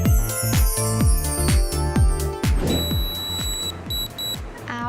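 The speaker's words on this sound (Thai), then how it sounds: "เสียงปี๊บยาวแบบนี้นะคะ ก็แปลว่าเสร็จขั้นตอนการทำทรีทเมนต์บำรุงผิวหน้า 3 นาทีเรียบร้อยแล้วค่ะ" Nu Skin galvanic facial device giving a long beep when its three-minute treatment ends, a sustained high tone over tinkling, rhythmic background music, followed by a shorter beep.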